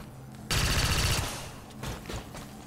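A loud burst of rapid automatic gunfire from XCOM 2 rattles out for about a second against a mech, followed by a tail of fainter impacts and mechanical clatter.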